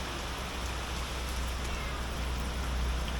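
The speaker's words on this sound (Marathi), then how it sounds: "खूपच पाऊस चालू आहे" Heavy monsoon rain near Ghoti on the way to Bhandardara, a dense, steady hiss of falling water with no break and no voices.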